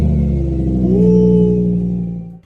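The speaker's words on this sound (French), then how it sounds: "maintenant la voiture tourne et a démarré normalement" An Audi R8 2022 with rear damage idles after starting, a steady low engine rumble with a brief rise in revs, close by and continuous before fading at the end.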